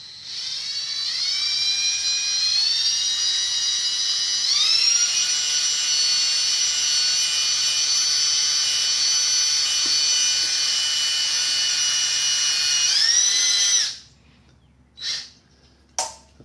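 A power tool whines steadily as it drives a screw into a cylinder head plug on a Honda CB750/CB900/CB1100/CBX DOHC engine, a loud sustained motor tone with a pitch shift, then stopping abruptly into short clicks.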